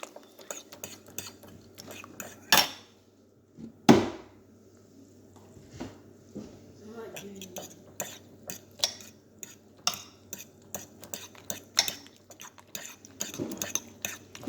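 Scrambled egg with vegetables being stirred in a pan, a quiet scrape-and-tap of a utensil against the pan in an irregular rhythm, with a couple of louder knocks early on.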